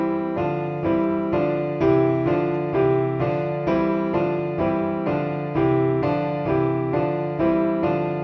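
Piano exercise played with the same two fingers on each hand, hands moving in contrary motion; a steady run of evenly spaced notes, roughly two per second, ringing together in pairs, close and clear with no voices.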